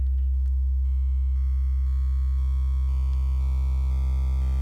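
Synthesizer wavetable slowly modulating across its frames, a steady loud sustained tone whose timbre shifts in small audible steps, with faint clicks at each frame change, alone throughout.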